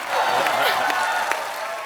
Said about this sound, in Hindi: तालियों के बीच इनवाइट करना चाहता हूं the very beautiful and talented Shraddha Kapoor